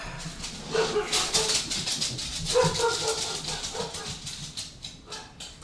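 Several dogs bark and yip in repeated bursts, fairly close and loud, with whimpering mixed in over a steady background.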